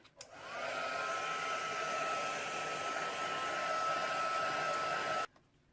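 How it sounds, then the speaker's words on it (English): Heat tool blowing steadily over a freshly painted journal page, a close, even whirring hiss that starts abruptly, holds for about five seconds, then cuts off. "Give it a quick blast with the heat tool."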